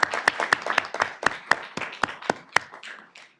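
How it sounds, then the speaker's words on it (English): A few people clap steadily at a city council regular session, with sharp, evenly spaced claps that thin out and fade near the end. "Let's have a round of applause for you"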